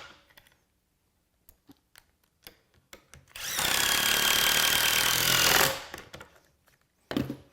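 A power drill drives 1.25-inch fine thread screws into a wooden picture frame, one steady whirring burst of about two seconds, near and loud, with scattered light knocks and clicks before and after.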